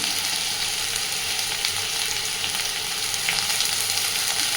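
Potatoes frying in a pan of hot oil, a dense, even crackling sizzle that stays loud and close throughout with no voices.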